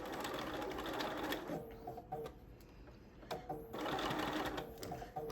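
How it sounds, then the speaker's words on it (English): A sewing machine stitches a quarter-inch binding seam onto a baby blanket, running in fast rattling bursts, pausing briefly with a few clicks, then whirring again, close by. "I'm going to sew at a 1/4 inch"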